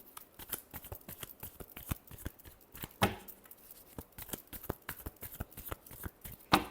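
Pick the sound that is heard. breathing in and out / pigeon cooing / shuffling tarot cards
shuffling tarot cards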